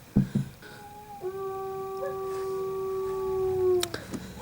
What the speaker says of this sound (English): those are the dogs you can hear in the background.